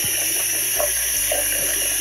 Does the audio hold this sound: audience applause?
no